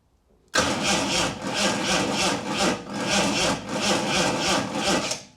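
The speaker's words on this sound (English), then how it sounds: "let's see if it turns over" A homemade 1980s-style replica supercar engine cranks on its starter motor, a loud, steady rhythmic churning with regular pulses that starts abruptly after a short silence and runs continuously to the end.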